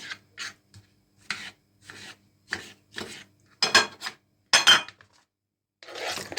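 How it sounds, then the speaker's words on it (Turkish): Potatoes chopped with a knife on a wooden cutting board in a home kitchen, a series of short, irregular knife strikes and scrapes, close and fairly quiet with brief pauses between cuts. "Tahtada da hemen böyle şekilde doğrayabilirsiniz."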